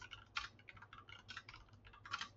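Someone types a note on a computer keyboard: quick, quiet bursts of key clicks in an uneven rhythm, close and faint in a quiet room.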